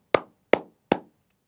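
Three sharp, close hand claps in an even rhythm, each a crisp slap with a short decay into silence, no talking around them.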